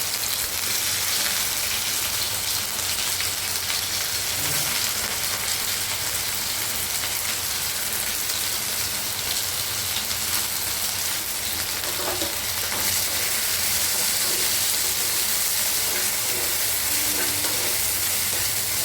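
Okra sizzles steadily in hot oil in a pan while a spatula stirs it, a dense continuous crackle like rain with occasional scraping, loud and close with no talking.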